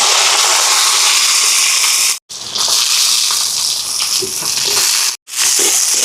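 Curry leaves, green chilies and onions dropped into hot oil, a loud, steady sizzling hiss that keeps going, broken by two brief silent gaps.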